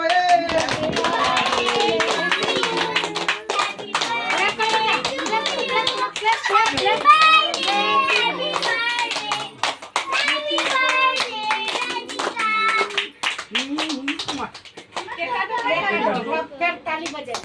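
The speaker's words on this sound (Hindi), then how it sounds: "फिर ताली बजे" Family members clap repeatedly in bursts at a home birthday party, the sharp claps close and mixed with lively chatter and children's voices.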